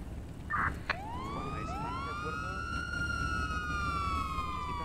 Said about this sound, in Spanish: ¡Venga! ¡Da sirenas, coño!